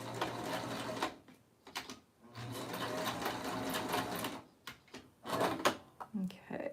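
A sewing machine stitches lingerie in quick motor-driven bursts separated by short pauses, close and fairly quiet.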